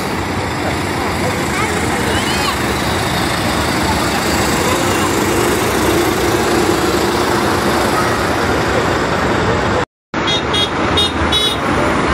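Decorated lorries roll past at a New Year's Eve light parade in Serambi Teruntum, making a dense, loud wash of engine and road noise with a few horn toots. Voices are heard among the crowd.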